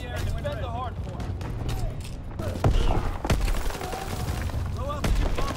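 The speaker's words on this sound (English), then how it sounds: "Enemy paratroopers in the sky. Anti-aircraft bursts commenced." Anti-aircraft bursts and explosions in Call of Duty: WWII, rapid gunfire and booming thuds mixed with shouting voices and chatter, dense and loud throughout.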